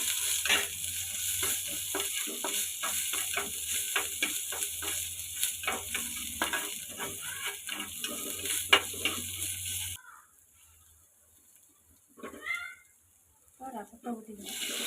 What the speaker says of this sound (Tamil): இப்போ இடிச்சு வச்ச பூண்டு மிளகு எல்லாத்தையும் போடுவோம்.